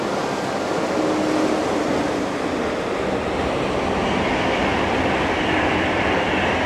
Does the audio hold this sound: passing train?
yes